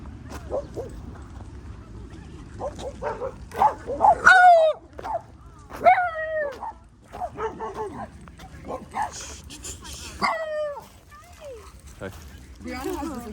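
A small dog barks and yips in several sharp bursts with whimpering between them, close and fairly loud, while people talk around it.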